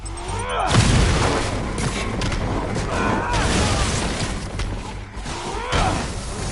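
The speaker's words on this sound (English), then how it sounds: "Grenade! Heads up!" Grenade explosion in a Spider-Man game, a heavy boom early on followed by continuous loud rumbling, clanks and crashing debris with occasional voices.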